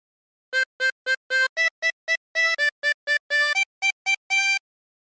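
Harmonica playing a meme melody without bends, a string of about sixteen short, crisp reedy notes in a bouncy rhythm, close and solo with no talking.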